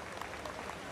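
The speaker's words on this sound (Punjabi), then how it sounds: "ਸੋ ਤਾੜੀਆਂ ਦੇ ਨਾਲ ਤੁਸੀਂ ਇਹਨਾਂ 5 ਕਿਸਾਨਾਂ" Audience applause at a Punjabi award ceremony honouring five farmers, a steady, dense clapping from a hall full of people that runs evenly without pause and without any talk over it.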